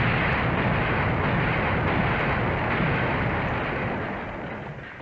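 Grenade explosions in the arcade shooter Metal Slug X, heard as a dense, continuous roar of blasts and rumble that stays loud throughout and eases off slightly toward the end.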